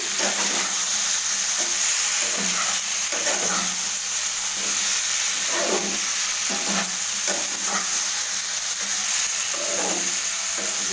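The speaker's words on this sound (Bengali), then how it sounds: "এইভাবে মশলা দিয়ে নাড়াচাড়ি করতে হবে।" Spices being stirred and fried in a little oil in a pan with boiled papaya for papaya egg curry, a steady close sizzle with repeated scraping strokes of the spoon at an even rhythm, no talk.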